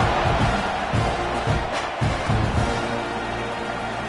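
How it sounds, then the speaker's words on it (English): Football stadium crowd buzzing after a score, a continuous murmur of distant cheering and chatter with no clear speech on top. "this crowd is buzzing after that last score"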